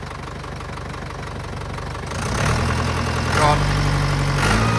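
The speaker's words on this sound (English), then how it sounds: "Let's start her up, dude." A tractor engine cranks and catches about halfway through, then settles into a loud, steady mechanical drone that swells as it revs, with a brief spoken word over it.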